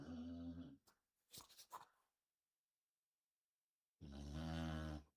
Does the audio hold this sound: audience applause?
no